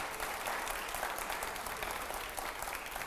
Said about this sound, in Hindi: जोरदार तालियां हो जाए जरा